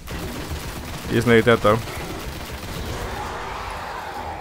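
Assault rifle fire in the Destiny shooter game, a short burst of several rapid shots up close, under and between a man's speech over constant in-game background noise.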